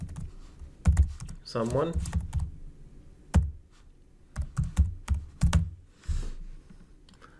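A search is typed on a computer keyboard, scattered clusters of close key taps and clicks while a person speaks briefly partway through.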